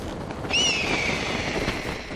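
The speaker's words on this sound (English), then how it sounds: "the go-to sound for any bird of prey in TV, film, and video games, with the real bird being a red-tailed hawk" A red-tailed hawk, the stock bird-of-prey cry, gives a single high, raspy scream that slides downward and trails off. It stands out clearly over a soft background hiss.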